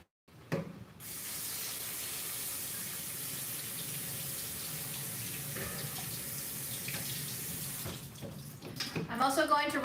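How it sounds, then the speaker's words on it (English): Water gushes steadily from a kitchen tap as canned chickpeas are rinsed, a close, even spray that runs for several seconds before breaking into clatter and splashing, with someone talking at the end. "I'm also going to rinse it out to get these detached floaty bits off."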